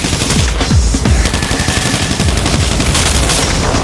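Rapid automatic gunfire from a helicopter in GTA 5 roleplay, loud bursts of shots with deep booming thumps, continuous and close throughout.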